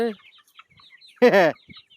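Native country chickens cluck: a brief call at the start, then one loud, close burst of rapid clucking in an otherwise quiet yard.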